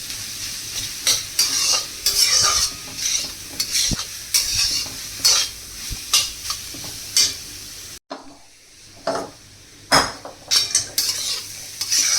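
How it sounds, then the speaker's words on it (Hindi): Cauliflower for gobhi paratha slowly roasting in a pan over a low flame, with a steady sizzle and repeated scraping stirs of a spoon. A brief pause partway through, then the stirring and frying pick up again. "देखिए गोभी को हम भून रहे हैं चला चला कर"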